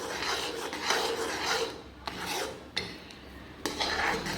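A ladle scrapes and stirs thick almond halwa in a pan, a steady rasping rub in repeated strokes with short clinks against the metal, close and alone.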